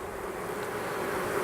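Steady buzzing from many honeybees around an open hive during an inspection after a swarm, a continuous close hum with no voices, holding level for the whole moment.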